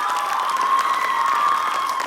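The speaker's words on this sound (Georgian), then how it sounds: "აპლოდისმენტები ადამიანებს" An audience at a dance show claps in a dense, steady burst of applause that lasts about two seconds.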